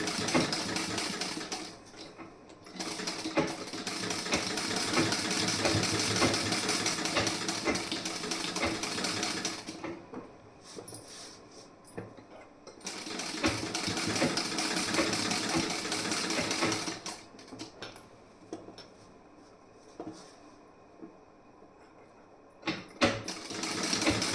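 An electric sewing machine stitching the back panel and sleeve of a garment whirs in three bursts: a long run, a second steady run after a brief pause, and a short final spurt, with quiet gaps between.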